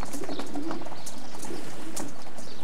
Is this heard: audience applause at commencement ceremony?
no